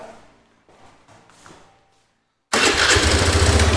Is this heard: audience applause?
no